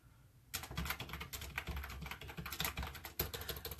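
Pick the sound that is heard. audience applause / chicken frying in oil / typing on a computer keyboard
typing on a computer keyboard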